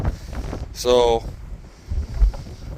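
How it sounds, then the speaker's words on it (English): Low, gusty wind rumbles against the microphone beside a 60 ft Brandt sprayer while someone briefly speaks, with bursts of buffeting rising and falling throughout. "It's friggin' windy as all hell."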